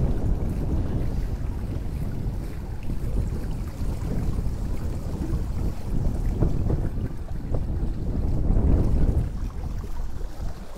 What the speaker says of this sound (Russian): Шум воды великолепен.